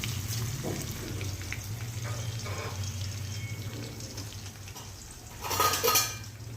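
A tempering of sesame seeds and dried curry leaves is stirred in a pot with light scraping and clinks over a low hum, then a brief louder clatter of cookware near the end.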